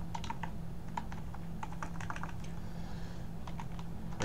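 Rapid, irregular clicks of a computer keyboard as someone types code for a reputation-system smart contract, with bursts of keystrokes over a steady low hum, close and moderately quiet.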